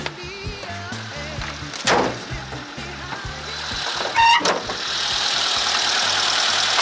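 A ZAZ Slavuta car engine cranks in a few short bursts, then catches and settles into a steady idle rumble, with some clanks and a brief squeal along the way.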